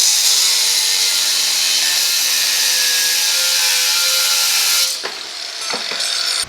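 A power tool cutting metal on a lawnmower handle whines steadily and loudly for about five seconds, then sputters through a few brief bursts as it slows and restarts.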